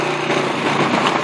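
A small motorcycle engine drones steadily and fairly loudly from the front seat of a habal-habal motorbike taxi ride, with a constant buzzing whine and no clear speech.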